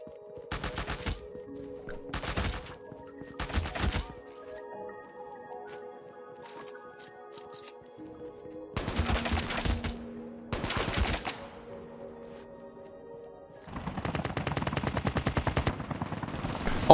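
Sharp bursts of automatic gunfire from a weapon in the mobile video game Call of Duty Mobile arrive in several separate strings. Quiet gaps fall between them, and a long, steady rapid-fire burst comes near the end.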